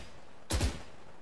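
A short burst of gunfire in the tactical shooter Valorant, two or three quick close shots running together in about a quarter second, loud against an otherwise quiet background.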